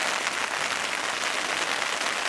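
Rain pours hard and steadily onto a tent at an elk hunting camp in Colorado, a constant near wash of noise with no speech.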